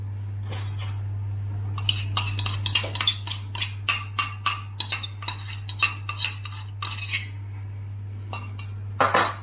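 A utensil scrapes and clinks against a bowl while dry ingredients are mixed into a cheese and onion loaf batter with shelled hemp seeds, giving a rhythmic series of close taps over a steady low hum, pausing briefly toward the end.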